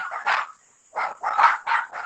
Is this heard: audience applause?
no